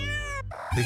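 A purebred cat meows once, close and loud, a drawn-out cry followed by the start of a second meow, in a short burst with no talk.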